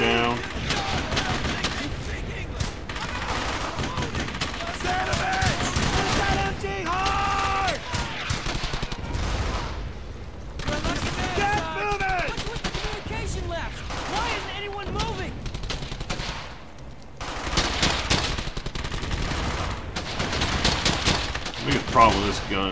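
Dense bursts of gunfire and rapid automatic weapon fire in Brothers In Arms: Hell's Highway, a World War II shooter, crackle steadily through the whole stretch, with voices talking over the battle.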